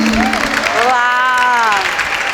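Applause from a lecture audience welcoming a presenter to the stage of a retail sales talk, a steady wash of clapping with a voice speaking loudly over it.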